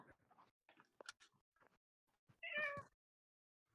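A pet cat gives one clear, fairly loud meow near the microphone, sounded midway through, among scattered soft clicks and faint mouth noises, with no talk.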